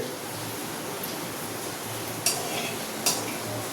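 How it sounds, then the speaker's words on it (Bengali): Whole spices such as cloves, cinnamon and small cardamom being stirred in a cooking pot over a steady, soft sizzle, with two sharp metallic scrapes of a spoon against the pot. "একটু নাড়াচাড়া করা হোক"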